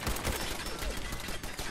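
Dense, continuous gunfire in Fallout 4, a loud rattling burst of rapid shots filling the whole moment with no pauses.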